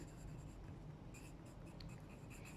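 Pen writing on paper while an accounting journal entry is filled in: soft, close scratching strokes in quick irregular bursts over a quiet background.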